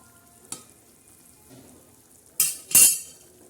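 Sev being stirred into a spicy sev bhaji curry in a pan, heard as a sharp clink near the start, then two loud bursts of scraping and sizzle toward the end, with quiet stretches between.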